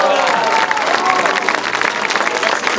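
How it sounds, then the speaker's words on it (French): Audience at a political speech breaking into a dense, loud thunder of applause, continuous crowd clapping with some voices and cheering mixed underneath. "Et un dernier tonnerre d'applaudissements"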